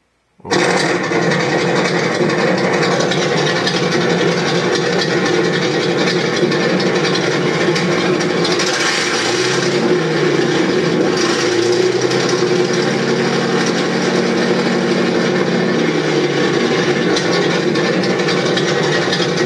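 A Benedini sound unit fitted to a Tamiya RC tank plays its engine sound at high volume, a loud steady rumbling idle with a shifting revving tone partway through, running alone without talk.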